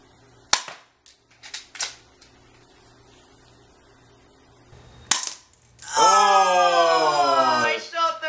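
A toy gun fires at targets inside a house: a few sharp cap-gun pops spaced apart, then a loud ringing electronic buzz and siren-like tone from the toy near the end.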